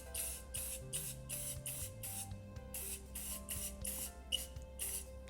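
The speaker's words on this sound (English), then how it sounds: "I'm gonna go ahead and spray it on here" Gloss white primer sprays from an aerosol can in a rapid series of short bursts, roughly a dozen hissing pulses close by, with a faint tonal hum underneath.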